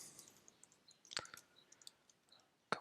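Computer keyboard clicks during programming work, faint, sparse keystrokes scattered across the moment, with one sharper clack near the middle and another at the end.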